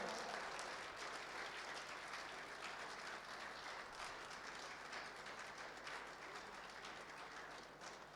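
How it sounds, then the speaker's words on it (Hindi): Sustained applause from a large audience at a religious gathering in Vrindavan, dense and steady throughout, with no pause and no voices over it. "तालियां तब तक होनी चाहिए जब तक दादा मंच पर उपस्थित ना हो जाए।"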